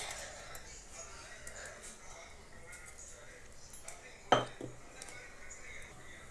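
A utensil clinks against a pot while drumstick leaf soup is stirred, with one sharp metallic knock standing out among faint scraping over a quiet kitchen background.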